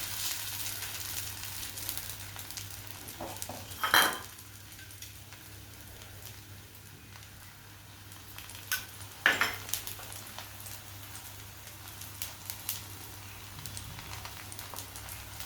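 Pesarattu batter is spread with a ladle across a hot pan, giving a faint steady sizzle, with a couple of sharp metallic ladle clinks against the pan and soft scraping.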